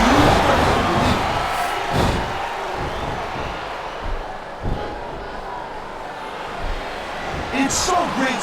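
Arena crowd noise from the SmackDown vs Raw 2007 wrestling video game, a steady roar with rhythmic chanting swells, occasional thuds and cheers, under commentators talking throughout.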